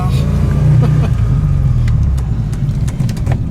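A vintage Panhard PL17 drives with its gearbox still cold, a steady low engine rumble with faint clicks and rattles from the gear shifts.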